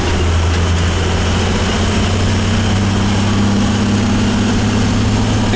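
An oil-fired boiler burner with a new pump and strainer runs steadily, a low constant hum and drone with a faint rattling vibration, close and loud throughout.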